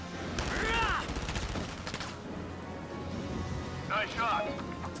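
Gunfire in the video game Valkyria Chronicles 4: a rapid burst of shots early on, then scattered battle noise and another brief burst near the end, fairly loud against a continuous game soundtrack.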